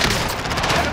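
Rapid bursts of automatic gunfire crackle continuously through a hectic firefight in an action video game, loud and dense for the whole second, with a voice faintly present beneath.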